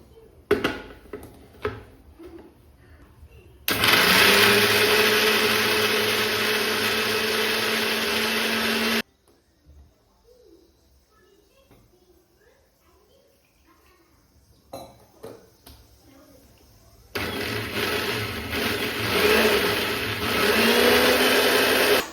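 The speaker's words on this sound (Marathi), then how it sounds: "आपण आता हे सगळं आहे ना मिक्सरमध्ये बारीक करून घेणार आहोत. एकदम पेस्ट बनवायची पाणी घालून." A kitchen mixer grinder blends a pani puri paste with water in two loud, sustained whirring runs. A quieter stretch of clinking utensils and dishes separates them.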